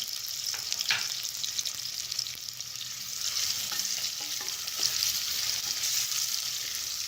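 Chopped onions fry in hot oil over a medium-to-low flame, giving a steady crackling sizzle with occasional sharper pops and light stirring clicks, close and continuous with no talking.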